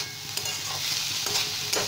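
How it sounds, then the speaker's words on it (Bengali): Amaranth stem greens frying and being stirred in a wok, a continuous soft hiss of sizzling with periodic scraping strokes of the spatula against the pan, close and steady. "শাক ভাজাটা কিন্তু একদম কমপ্লিট হয়ে গেছে, সুন্দর ভাজা ভাজা হয়ে গেছে"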